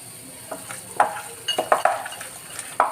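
Andhra-style chicken pakoda marinade being mixed with lemon juice, giving a few scattered wet stirring and squelching clicks, close and moderately loud, with no one talking.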